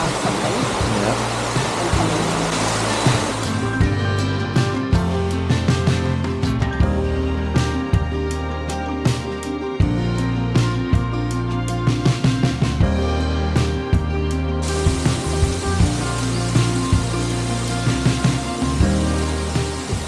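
A waterfall on an Australian road trip roars loudly and steadily, a dense, continuous wash of rushing water close by that fills the whole scene.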